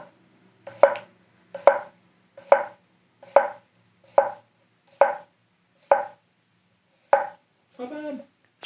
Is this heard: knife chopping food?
yes